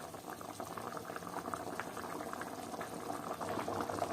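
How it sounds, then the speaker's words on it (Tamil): Chepakalangu tuber curry, a tamarind-based Tamil kulambu with fried tuber and oil, bubbles steadily in a pot, a dense continuous simmering crackle heard up close with no talking. "பத்து நிமிஷம் போல் நல்லா கொதிக்கிட்டோம்."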